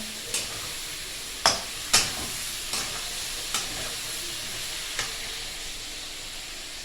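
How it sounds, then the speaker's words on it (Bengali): Spice masala cooking down in a pan with a little water, a soft steady sizzle under sharp clinks and scrapes from a stirring spoon at irregular intervals. "মশলাটা পুড়ে যাবে না কষিয়ে নেবো আমি দেখো কষাচ্ছি কীভাবে"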